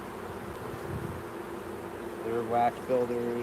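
Honeybees hum on a hive frame during a beehive inspection, a low continuous buzz in the background while a person speaks.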